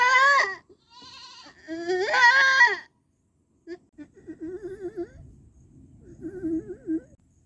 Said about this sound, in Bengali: প্রচণ্ড কষ্ট পাচ্ছে ছাগলটা এই জন্য খুব জোরে জোরে সে চেঁচাচ্ছে